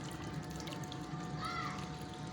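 A bottle is filled full of water for rooting rubber plant cuttings, giving a faint, soft steady trickle of running water close by.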